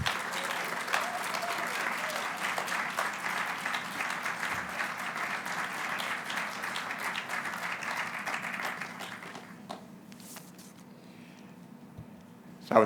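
A crowd gives sustained, dense applause to welcome North Carolina governor Roy Cooper at a groundbreaking ceremony for a luxury senior living community; the clapping stays steady and loud, then tapers off to a quiet room near the end.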